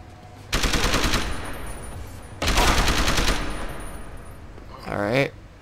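Automatic gunfire rips out in two long, loud bursts in the video game Deus Ex: Human Revolution, followed by a short whooshing sweep at the end, heard up close and without talk.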